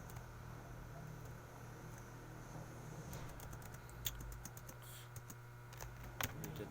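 Keys on a computer keyboard tap out a short command, a few scattered clicks over a quiet fan hum, with a couple of sharper keystrokes near the end.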